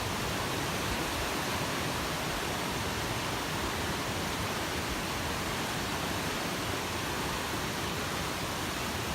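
A creek flowing steadily beside a hiking trail, a constant broadband rush of water with no breaks, moderately loud and close, no voices.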